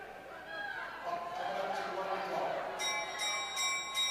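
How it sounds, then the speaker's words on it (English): A last-lap bell rings at a long track speed skating race during the US championships and World Cup qualifier, several rapid clangs in the latter half over arena crowd chatter and a commentator's voice. "There's the bell."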